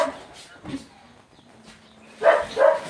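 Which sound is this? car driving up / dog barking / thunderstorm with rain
dog barking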